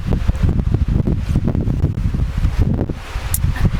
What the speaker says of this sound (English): there are gusts of wind, as you can see and as you can hear in my microphone going